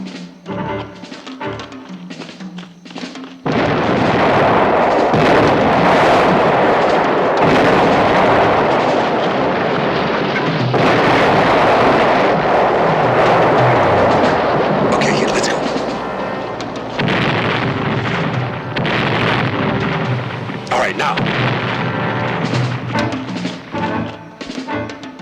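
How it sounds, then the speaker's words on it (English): Howitzer artillery fire and explosions in a war film, a loud, sustained barrage of heavy booms and rumbling blasts that begins abruptly after a quieter opening and continues almost unbroken to the end. "Let's get moving before old Lard-ass opens up with his howitzers."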